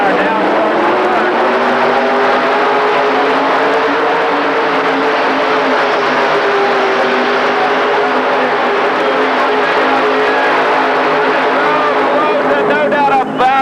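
A mini rod pulling tractor with a 468 Chevy engine makes a pull, its loud sustained engine drone rising slightly in pitch as it runs under an announcer's continuous commentary.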